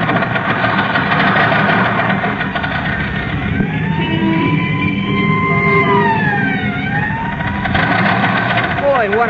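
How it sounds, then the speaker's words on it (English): An old car's engine racing at speed as a radio drama sound effect, a loud, continuous droning roar with a whining pitch that swoops up and down throughout. "Can't you get any more speed out of this buggy?"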